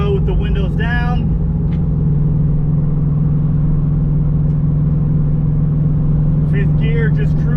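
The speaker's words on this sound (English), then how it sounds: "5th gear, just cruising." A Toyota GR86 cruising in fifth gear with the windows down and aftermarket over-pipe and front-pipe exhaust, giving a steady low engine drone with road and wind rush; someone talks at the start and again near the end.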